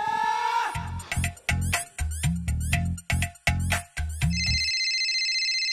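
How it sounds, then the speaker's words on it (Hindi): A mobile phone ringtone plays loud and close, a bright repeating melodic pattern of rhythmic tones and beats that ends in a sustained high chime, with no voices over it. "वे किसका फोन आ गया?"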